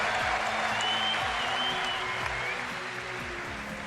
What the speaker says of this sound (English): getting the applause he deserves